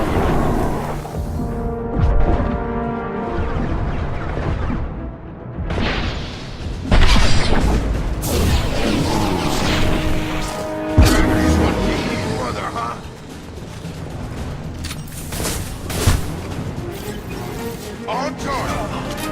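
Gunfire and explosions in Mass Effect 2 combat: a steady stream of booms, pops and sharp bursts layered over music and bursts of speech, loud and close for most of the stretch.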